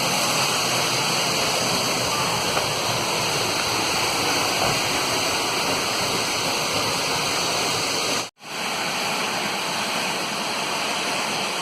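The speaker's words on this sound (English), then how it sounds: "There's the waterfall right there coming down on the inside." A steady, loud rush of falling water roars continuously at Silver Creek Falls, heard from behind the falls, broken only by a brief dropout near the end.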